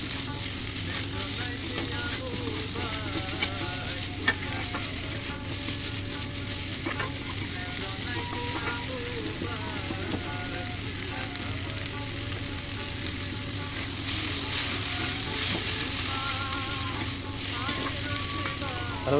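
Broccoli and fried potatoes sizzle steadily in a hot pan while being sautéed for a vegetarian dish, with repeated scraping stirs over the continuous frying hiss, growing slightly louder toward the end.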